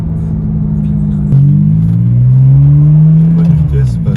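Ferrari 550 Maranello with its 5.5-litre V12, engine note swelling and holding in a steady rev, loud and close, with a voice talking over the sound.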